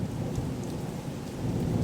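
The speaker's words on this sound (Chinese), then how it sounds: "天界回应，霎时间乌云密布，一场骇人的暴风雨陡然而至。" A violent thunderstorm with heavy, pouring rain, used as a sound effect in a narrated story, roars as a steady, dense downpour with a low rumble underneath and no voices.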